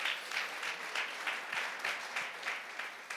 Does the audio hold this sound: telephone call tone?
no